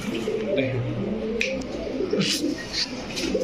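Pigeons of fancy breeds such as Pakistani Teddy, Kamargar, Cobra, Shahranpuri and Rampuri coo softly at a seller's place, a steady low burble over a constant background murmur, with a few brief higher chirps.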